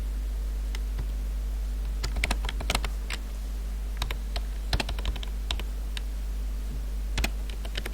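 Code being typed on a computer keyboard comes through as irregular bursts of sharp key clicks, some quick runs and some single taps, close and fairly loud against a quiet steady background hum, with nobody talking.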